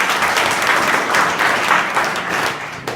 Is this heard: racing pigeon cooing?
no